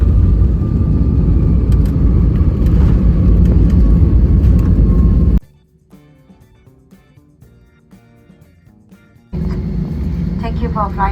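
Inside an airplane landing at Singapore airport, a loud, steady engine roar and rumble fills the cabin, drops away to near quiet for several seconds, then returns at full strength.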